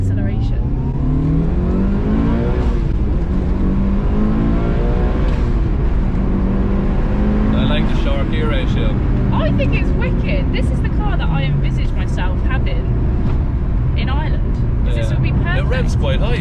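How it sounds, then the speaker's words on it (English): A Mitsubishi Lancer Evo 6 engine revs and accelerates hard, heard from inside the car as a loud, rising drone with gear changes, while people talk over it. "it revs quite high, I must say."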